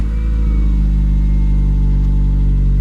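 A Peugeot 106 Rallye engine runs in a steady, close, loud low hum with an even throb and no change in pitch, and no other sounds.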